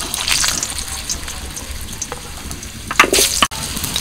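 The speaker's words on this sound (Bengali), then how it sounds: "প্রথমে দিচ্ছি আলু" Cut potatoes dropped into hot oil for a vegetable curry, a close sizzling hiss with a brief louder splash and crackle near the end; no talk.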